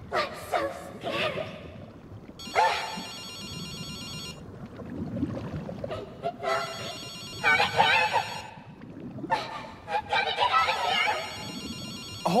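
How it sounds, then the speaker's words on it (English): A telephone rings repeatedly in the horror game Ghostwire: Tokyo, bursts of electronic ringing separated by pauses, with game dialogue and low ambient sound between the rings. "I'll answer the phone and see what happens."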